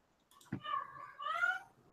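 A house cat meowing indoors in the background, two drawn-out whiny meows after a soft click, fairly faint and alone with no talk over it.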